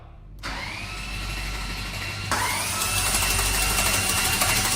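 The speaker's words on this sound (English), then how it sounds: "We're about to turn the car over for the first time with no spark plugs in there." A Ferrari F430 V8 from a crash-damaged restoration cranks over on its starter with the spark plugs removed, a steady whirring drone that rises in intensity partway through and continues without firing.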